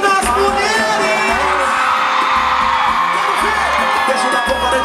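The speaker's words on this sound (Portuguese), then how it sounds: "cadê o gritinho das mulheres?" Concert crowd at a samba show in Luso, with women screaming, whooping and cheering loudly and continuously under rhythmic music, the shrill voices rising over a steady pounding beat.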